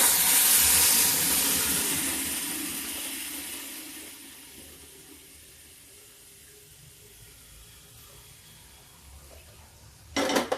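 Cooked lauki and toor dal poured into a hot tempering in a home kitchen, a loud burst of sizzling hiss that slowly dies down to a faint simmer, with a clatter at the end.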